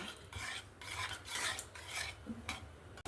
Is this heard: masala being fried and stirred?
yes